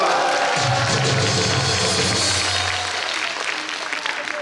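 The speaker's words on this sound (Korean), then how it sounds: "자, 박수로 모시겠습니다." Applause rises from a crowd at an outdoor Korean political rally in Incheon, a steady wash of clapping that holds evenly and begins to thin toward the end, with a faint voice briefly beneath it.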